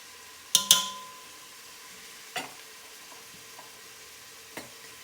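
Shallots drop into a hot pan with a sharp burst of sizzling, followed by a few soft stirring clinks of utensil on pan, close and otherwise quiet.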